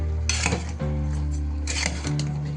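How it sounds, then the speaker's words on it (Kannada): Chicken pieces are stirred with salt and turmeric in a pot, giving a few clattering metallic scrapes and clinks of a spoon against the vessel, close and distinct. "ನಂತರ ಎಲ್ಲ ಸ್ವಲ್ಪ ಮಿಕ್ಸ್ ಮಾಡಿ,"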